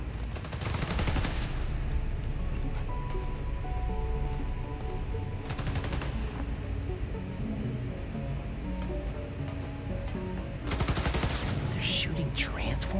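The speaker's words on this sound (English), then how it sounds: "They're shooting transformers?" Gunfire in a Spider-Man game rattles in rapid, crackling bursts: one at the start, one around six seconds and a longer volley near the end, over a steady low background rumble.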